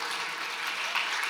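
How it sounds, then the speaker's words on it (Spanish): An audience at a university event claps for the UNSA folk ballet troupe, a dense, even wash of applause filling the short moment. "Recibimos a nuestro querido ballet folclórico de la UNSA con muy cálidos aplausos"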